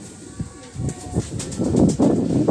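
Pigeons coo softly in a seaside loft by the shore, their low murmuring calls overlapping across the few seconds with steady wind noise beneath.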